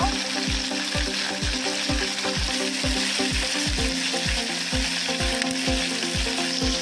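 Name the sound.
potatoes and green banana frying in a pan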